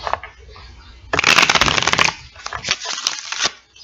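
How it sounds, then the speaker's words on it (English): Tarot-style cards shuffled and pulled for a weekly spiritual card reading: a soft, brief rustle, then a dense burst of rapid riffling flutter, followed by scattered card slaps and slides, close and fairly loud, with no talk. "Now we will pull a card for all air signs."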